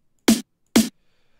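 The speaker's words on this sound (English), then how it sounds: "In the build up, there's another snare which sounds like this" Two short, punchy electronic snare hits from a melodic dubstep build-up made in Ableton Live, about half a second apart, dry and isolated with silence around them.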